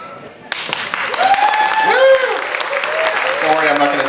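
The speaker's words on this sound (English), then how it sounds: "I hope you clap loud." Applause and clapping from a comedy show audience, with a voice speaking over the crowd noise.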